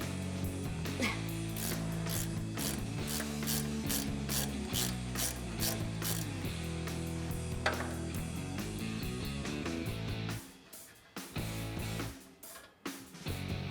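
Wrench ratcheting on a suspension end link nut during a Toyota Tacoma lift kit install, producing a rapid run of close metallic clicks that stops near the end.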